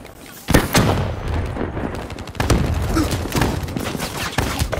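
A grenade blast and rapid gunfire ring out in a multiplayer shooter hardpoint match, with sharp repeated shots and heavy booms crackling loudly in close, irregular bursts.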